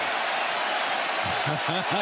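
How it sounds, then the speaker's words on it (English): A broad, steady roar of derisive arena crowd noise at Allen Fieldhouse during a West Virginia at Kansas basketball game, with scattered clapping, sustained throughout; a few voices rise and chant near the end. "listen to the derisive applause from the Allen Fieldhouse faithful"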